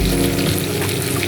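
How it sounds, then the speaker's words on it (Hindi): Meat sizzles steadily in hot oil with tomato, garlic, ginger, green chili paste, turmeric and salt, a dense close crackle with no pause across the short stretch. "अब इसको भूनेंगे थोड़ा सा पानी डाल के।"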